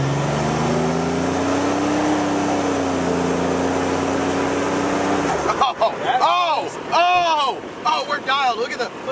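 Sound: turbocharged Buick Grand National car accelerating

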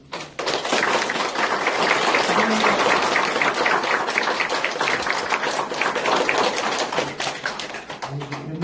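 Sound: congratulatory applause

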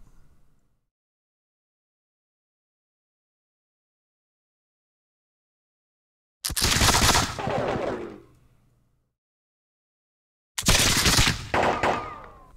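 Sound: musket volley fire in video game Campaign 1776

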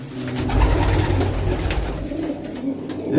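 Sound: pigeons cooing

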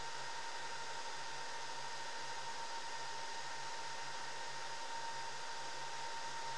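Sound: Antminer test fixture running its self-test

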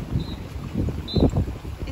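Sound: wind

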